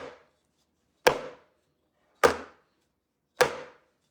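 A cake pan is knocked on a countertop to drive out air bubbles, giving three sharp, loud knocks roughly a second apart, with silence between them.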